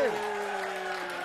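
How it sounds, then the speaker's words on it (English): Applause and cheering from a studio audience on a comedy talk show, a dense steady wash of clapping with voices over it. "Clap for him!"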